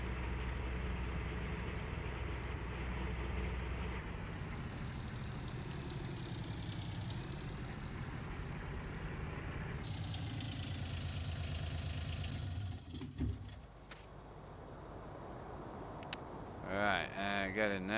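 Tractor engine in Farming Simulator 19, a steady mid-pitched idling drone with knocking rumble that holds throughout, shifting briefly near the end, with no voices.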